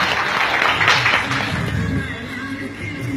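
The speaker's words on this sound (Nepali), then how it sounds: "जोरदार ताली बजाइदिनु होला" Steady audience applause at a stage comedy show in Nepal, a dense wash of clapping that holds at an even level for the whole stretch with a slight swell near the start.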